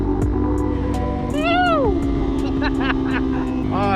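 A Yamaha TW200 motorcycle fitted with a new rear sprocket drones steadily up close, then its engine gives one quick rev blip that rises and falls sharply before settling back under constant road and wind noise.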